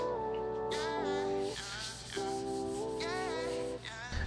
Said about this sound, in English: we'll take the rough side of a regular sponge and gently scrub the debris off the